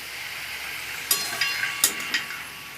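Spinach is stirred in a kadai as it wilts and releases water, giving a steady wet sizzle with a handful of sharper scraping strokes of the spoon against the pan.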